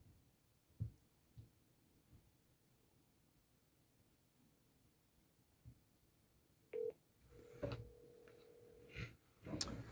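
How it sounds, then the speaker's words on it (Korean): Someone dials a phone call, with scattered taps and clicks of handling at first, then short electronic tones and a brief ring tone near the end, all close and fairly quiet. "카이한테 전화하면 되겠다."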